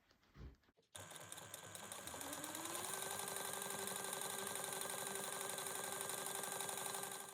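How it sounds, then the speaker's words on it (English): A sewing machine top stitches a seam at one-eighth inch, starting after a short quiet moment and then running in a fast, steady, even whir, faint and alone. "you're going to go ahead and top stitch this at 1/8 of an inch"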